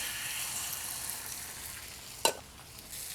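Five eggs fry on a hot breakfast griddle, an even, close hiss of sizzling broken by one sharp clack of a utensil near the end.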